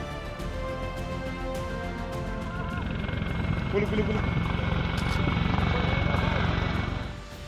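A helicopter close by gives a steady throbbing rotor and engine roar that builds slightly, then cuts off near the end.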